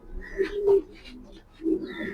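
Young racing pigeons of this year's hatch coo nearby, two or three low throaty coos with brief pauses, faint higher chirps mixed in.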